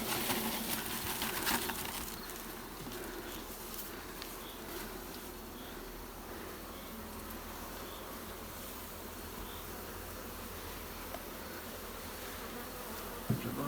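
A dense, steady drone of many bees buzzing at an apiary hive fills the air, continuous and close, with no talking.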